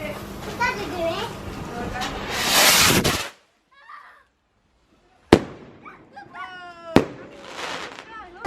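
Fireworks are set off at night with sharp cracks and fizzing bursts, several loud pops spaced apart, while children and adults talk and shout nearby.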